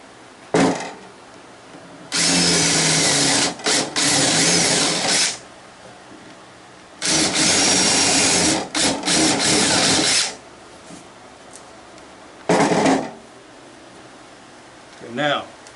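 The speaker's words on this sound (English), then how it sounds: "Take and drill these." A power drill bores holes in wooden glider bench boards cut down to 3/4 inch, sounding in three loud, whirring bursts of a few seconds each, separated by quiet pauses.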